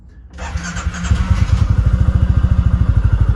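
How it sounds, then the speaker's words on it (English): A 2022 Kawasaki Mule PRO-MX utility vehicle engine cranks and catches after a short click, then settles into a steady, rapid idle rumble heard from close inside the enclosed cab. "I'm going to start it right now, just so you guys can kind of hear what it sounds like inside the cab"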